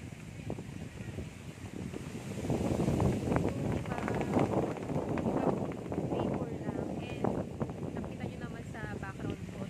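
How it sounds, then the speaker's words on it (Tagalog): Strong wind buffets the microphone in a steady roar, with a low rumble that swells and stays heavy throughout. "Sobrang mahangin talaga."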